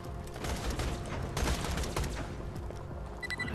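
Rapid gunfire in the shooter Borderlands 2, a dense, continuous volley of close, loud shots lasting a few seconds with no voices over it.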